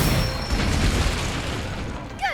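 A fiery spell blast from a wand in Hogwarts Legacy, a loud sustained booming rush with crackling burst texture that fills the whole moment, ending in a brief rising whoosh.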